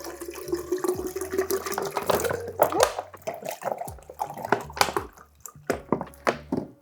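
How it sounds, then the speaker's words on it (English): Water splashes and gurgles into a container being filled for lemon water, irregular trickles and drips close up, with occasional clinks and no talk. "I'm going to fill it with water and then add some lemons"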